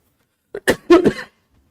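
A burst of several harsh coughs from one person with a sore throat, close and loud, in quick succession before falling silent.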